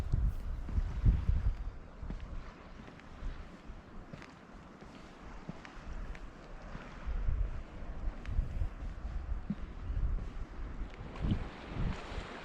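Ocean waves on Amami Oshima wash in steady, broad surges, with wind buffeting the microphone and low rumbles swelling and fading.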